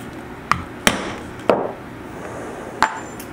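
Four sharp, separate metal strikes of a hammer on a concave rivet setting tool as rivets are set, loud and close, with uneven gaps between blows and no talk.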